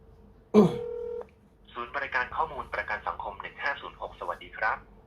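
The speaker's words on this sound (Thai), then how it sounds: "ทดสอบการโทร โทรแบบเปิดลำโพงครับ" A test call on a Xiaomi Poco M3 in speakerphone mode: a single sustained tone from the phone's loudspeaker, then a recorded voice prompt speaking through it, close and clear.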